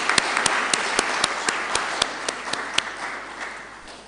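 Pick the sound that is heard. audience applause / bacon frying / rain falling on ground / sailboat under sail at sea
audience applause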